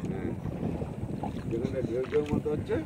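A small fishing boat on water at high tide, with wind buffeting the microphone and faint lapping, while voices talk nearby.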